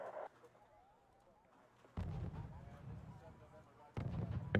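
Mortar fire in the real-time strategy game Wargame Red Dragon: a few separate booming impacts, roughly two seconds apart, each a low thud with a crackling tail, with quieter background between them.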